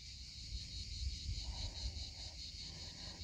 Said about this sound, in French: Je vous laisse entendre le beau bruit des cigales